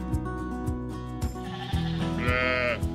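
Sheep bleat repeatedly on an organic lamb farm in Brittany, several overlapping calls from ewes and lambs, fairly close and loud, with one prominent drawn-out bleat near the end.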